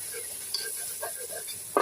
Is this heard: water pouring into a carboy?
no